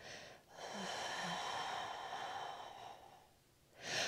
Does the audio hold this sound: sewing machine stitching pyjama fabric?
no